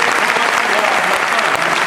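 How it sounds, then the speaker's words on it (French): Loud, dense applause fills the room at an evening presentation of a regional cycling organization, a continuous wash of many hands clapping close and unbroken. "vous pouvez l'applaudir très très fort"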